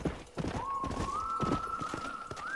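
Hooves of a horse clip-clop in a steady, close rhythm in the video game Red Dead Redemption, with a held whistle-like tone over the top.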